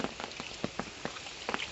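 Rain falls in the mountains in a steady fine hiss, with distinct drops tapping nearby at an uneven rhythm, fairly faint and without voices.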